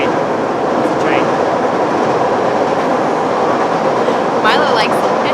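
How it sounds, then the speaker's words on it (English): A train rumbles past with a loud, steady clatter of wheels on rails that fills the whole stretch, with brief metallic squeals rising above it near the end. "Train. It's a train."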